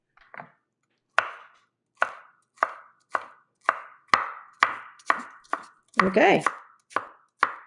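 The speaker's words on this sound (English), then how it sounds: "And then we're gonna mince it" Garlic minced with a knife on a cutting board: a steady run of about a dozen crisp, close chops in an even rhythm, with one brief spoken word near the start.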